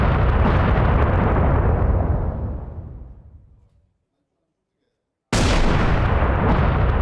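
Israeli airstrikes hit southern Lebanon. A loud, dense, rumbling blast noise slowly fades away over a few seconds, followed by a moment of silence, then another loud roaring burst.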